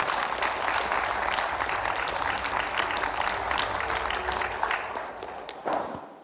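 Audience applause welcomes the vice chair of a regional committee onto the stage at a televised hydrogen-hub and green-industrial-park forum, a dense sustained clapping from a large crowd that tapers off near the end.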